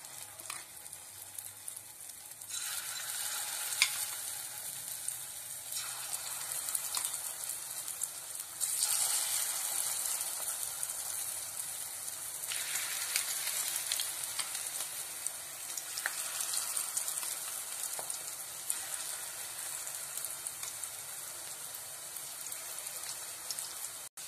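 Egg batter for egg fritters sizzling in hot oil in a wok, a steady crackling fry that swells as each spoonful goes in, close and continuous with no talk.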